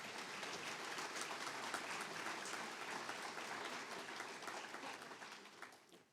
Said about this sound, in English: can we please give a round of applause to the graduating class?